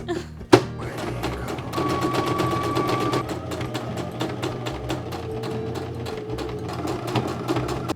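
A sewing machine stitches a repaired shirt after a sharp thunk at the start, then whirs in a rapid, steady mechanical rhythm of needle strokes, close and fairly loud.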